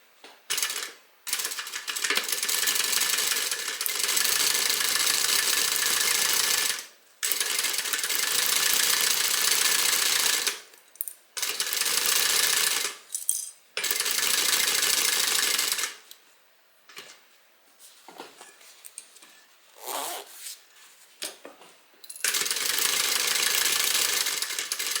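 Sewing machine running in long steady bursts while stitching a 1/4 inch seam, loud and close, with several short pauses between runs and quieter handling sounds in the gaps.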